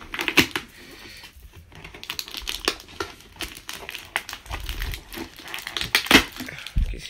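A Sephora advent calendar being opened by hand, with crinkling packaging, cardboard tearing and small tapping clicks in irregular bursts close by, without speech.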